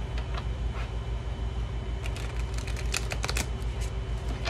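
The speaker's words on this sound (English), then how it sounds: "One more shuffle." A deck of tarot cards is shuffled during a card reading, producing a quick run of crisp riffling clicks and flutters over a steady low hum, fairly close and moderately quiet.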